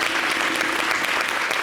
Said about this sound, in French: On peut applaudir Reda, s'il vous plaît.